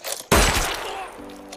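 A sudden loud burst of gunfire in a war film crashes in, followed by a harsh, decaying rattle of shots and debris, with music-like tones underneath near the end.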